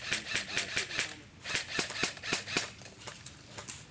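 Airsoft guns, including an L85, M14 and M4, firing in a rapid run of sharp, snapping shots during an outdoor airsoft game, with short regular bursts and brief pauses, moderately close.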